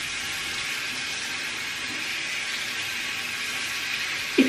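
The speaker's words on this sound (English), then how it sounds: "I'm gonna put it under water," A tap runs hot water over a frozen item, a steady hissing stream that holds evenly throughout, close and alone, with a brief splash or knock right at the end.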